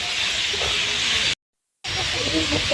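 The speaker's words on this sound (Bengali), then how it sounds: "খুব সুন্দর একটা পানির ফোয়ারা" Steady broadband hiss of a splashing water fountain fills the scene, broken by a brief silent gap midway, with faint voices and birds faintly underneath.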